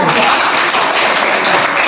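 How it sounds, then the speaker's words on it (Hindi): A class of children claps together in a classroom, a loud, dense burst of clapping that fills the whole moment. "चलिए ताली बजाइए"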